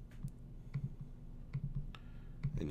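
Soft mouse clicks in the Canvas interface, a few quiet paired taps spaced about a second apart over a low steady hum.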